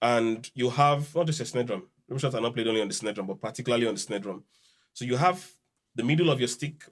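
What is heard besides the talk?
No distinct noise like a dog, phone or traffic.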